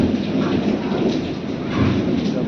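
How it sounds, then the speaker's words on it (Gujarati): Heavy rain pours down steadily and loudly during a thunderstorm, with a continuous dense roar and low rumbling swells of thunder throughout, with no voices. "તાર વરસાદ ફૂલ આવે છે"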